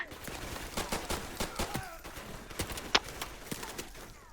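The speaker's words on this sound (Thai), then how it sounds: "ปืนกลปืนสั้นครับ เสียงแปะแปะแปะโคตรพอเลย" Rapid bursts of submachine gun fire in Call of Duty Modern Warfare Remastered, sharp repeated cracks scattered through the stretch with one bright metallic ping, set against steady game background noise.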